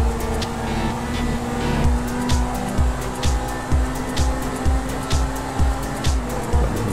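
A car driving through the streets of Los Santos in the video game GTA V online, its engine humming steadily with rhythmic thumping pulses and a constant low drone, loud and close with no talk.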